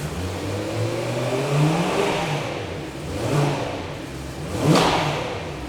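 A BMW E93 M3 convertible's S65 V8 engine idles close by and is revved in three short blips to about 2,500 rpm, each rising and then falling back.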